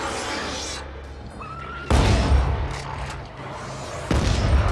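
Gunfire in the co-op game Dead Space 3, two sharp heavy bursts with a short quieter stretch between them, set against a background of game ambience.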